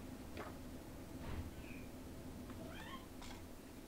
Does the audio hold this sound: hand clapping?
no